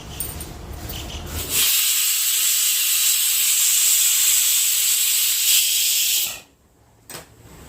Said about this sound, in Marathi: कुकरमध्ये पाणी उकळायला ठेवलेलं आहे